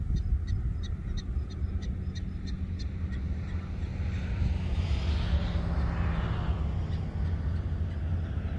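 Prairie dogs call outdoors in a quick, regular series of about ten sharp, high chirps early on, moderately close, over a constant low rumble of wind and motion, followed by a broad passing whoosh.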